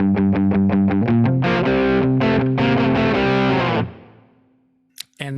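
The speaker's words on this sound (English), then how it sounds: "I added some natural reverb just to have a little bit of, yeah, room." A distorted electric guitar played through a Kemper Profiler plays rapid staccato chords, then sustained ringing chords that cut off and decay into a short room reverb tail, followed by a brief pick noise.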